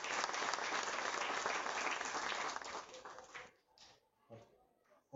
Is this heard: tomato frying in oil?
no